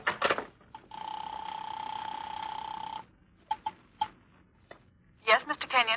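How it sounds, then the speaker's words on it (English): An old-fashioned house telephone rings in a spooky old-time radio drama, a long steady electric bell tone lasting about two seconds amid short clicks, followed by someone speaking. "The house phone."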